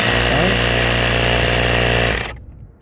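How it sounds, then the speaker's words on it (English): A portable air compressor runs loud and close with a steady, harsh motor drone while inflating a Chevy Silverado 1500 tire, then cuts off abruptly near the end. "you would put the compressor back in the storage area"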